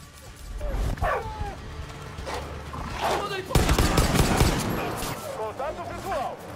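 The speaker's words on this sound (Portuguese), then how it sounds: "Que cachorro guerreiro, mano!" Boomer, a dog companion in the Far Cry 5 video game, barks in short repeated yips amid bursts of gunfire and game noise, with someone talking over the action.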